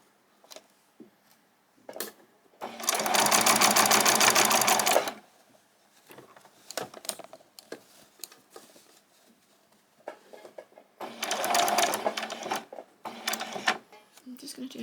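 A sewing machine stitching a handbag runs in two rapid, rattling bursts of a few seconds each, close and fairly loud, with soft handling clicks and quiet talking in the gaps between.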